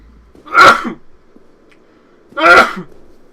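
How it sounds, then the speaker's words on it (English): Two sharp, close sneezes about two seconds apart, each a loud burst of breath in a quiet room, during play of Dark Souls: Prepare to Die Edition. "Oh, I'm gonna sneeze."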